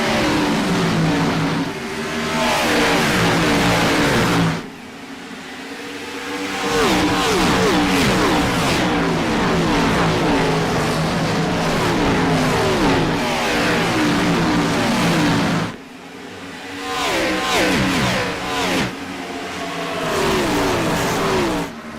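A stock Cup Series race car at Dover races with loud engines revving and accelerating on throttle, droning on continuously with brief dips and swells as cars pass by.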